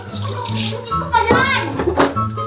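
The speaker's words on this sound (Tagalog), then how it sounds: "So yan, lalagyan natin ng tubig." Water runs from a tap into a basin to rinse laundry, a steady splashing fill with a person talking over it throughout.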